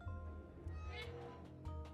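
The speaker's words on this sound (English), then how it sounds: "they just left the meow button in there because why not?" A cat meows from a meow button in a video game, a few short mews under ongoing talk and a low droning hum.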